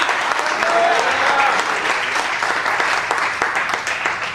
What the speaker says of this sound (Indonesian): Berikan tepuk tangan yang lebih baik bagi Tuhan.